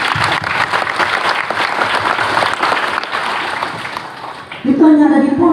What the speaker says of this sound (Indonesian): Tepuk tangan anak pondok.